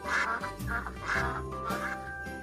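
Several ducks quack up close in a run of loud, rasping calls, about four bursts in quick succession with no voices over them.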